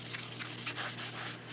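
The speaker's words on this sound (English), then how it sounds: "Take a paper towel or a rag, and you're going to need to wipe the excess off" Paper towel wiping excess oil off a Rolls razor hone, a steady close-up rubbing and scrubbing sound with repeated strokes and no talking.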